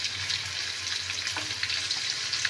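Onion frying in a small amount of oil for chicken stew, a steady close hissing sizzle throughout with faint stirring.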